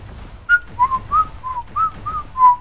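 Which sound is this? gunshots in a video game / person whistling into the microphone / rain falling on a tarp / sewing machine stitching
person whistling into the microphone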